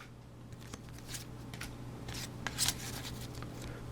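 Scissors cut open Pokemon Bandit Ring booster packs in a few quiet, crisp snips and rustles, with the sharpest cut near the end, over a steady low hum.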